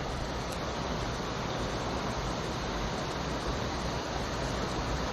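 Creek water rushes steadily near waterfalls in a wooded hollow on the Sneeds Creek loop, a dense, unbroken roar with no talk and no pauses.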